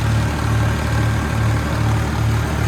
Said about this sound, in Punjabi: ਟਰੈਕਟਰ ਦੀ ਆਵਾਜ਼ ਵੀ ਕਰੋ ਜਾਂਦੀ